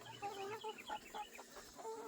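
Young chickens in a backyard coop in the Deep South, clucking and chirping in short repeated bursts, soft and fairly close, with no voices over them.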